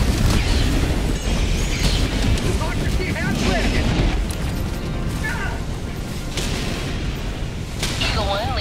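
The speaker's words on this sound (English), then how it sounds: "Calling in orbital strike!" Orbital strike explosions in the Helldivers 2 video game, a dense, continuous barrage of booms and rumbling blasts running loud throughout, with game effects and chatter mixed in.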